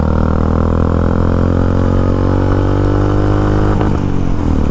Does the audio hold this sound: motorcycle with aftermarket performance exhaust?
yes